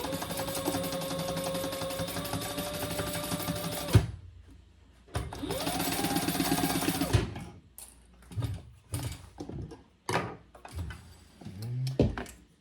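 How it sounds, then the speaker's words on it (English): A sewing machine stitches up the boxed corners of a fabric caddy and diaper case pouch, running in a steady 4-second whir, then a second long run, followed by short stop-start bursts and clunks as the fabric is repositioned. "And then we'll stitch all 4 of those boxed corners up."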